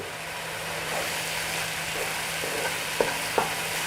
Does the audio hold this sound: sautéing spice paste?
yes